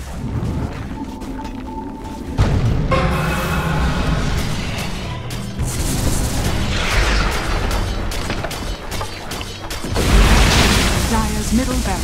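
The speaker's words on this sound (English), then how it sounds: "Dire's middle barracks has fallen." Dota 2 barracks being destroyed in a full game, heard as a loud continuous wash of booming explosions and battle effects with rumbling impacts, dense game sound throughout.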